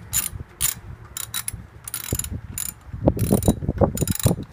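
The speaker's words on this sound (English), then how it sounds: "You want to get the lugs on your 19 millimeter socket again, and you want to tighten it in a star pattern. And I just hand tighten it first." A 19 mm socket on a ratchet spins lug nuts onto a 2012 Dodge Grand Caravan wheel by hand, with close, irregular clicking and metallic rattling in short bursts.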